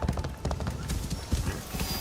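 Horse hooves clip-clop in a video game, a quick, fairly loud run of hoof beats in an uneven gallop rhythm over faint game ambience.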